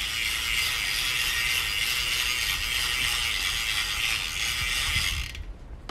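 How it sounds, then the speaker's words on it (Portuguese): A bicycle chain is turned while being cleaned, giving a fast continuous ratcheting whir of the freewheel close by that cuts off abruptly near the end, with no talk. "vou rodando a corrente"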